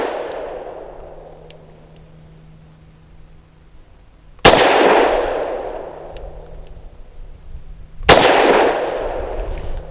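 Two sharp, loud pistol reports from an EAA Girsan lightweight High Power firing Civil Defense 50 grain +P ammunition, spaced a few seconds apart, each with a long ringing decay, after the fading tail of an earlier shot.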